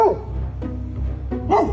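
A dog barks at a large inflatable black Halloween cat, giving three short, close barks spaced a little over half a second apart, the last one higher and sharper.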